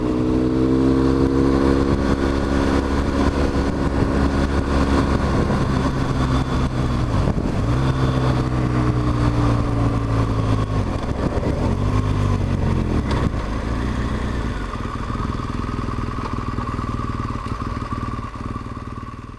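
A 2014 BMW R1200GS motorcycle underway, its engine droning steadily with rising and falling pitch through gear changes, wind rushing across a loud, close ride, easing toward a lower hum near the end.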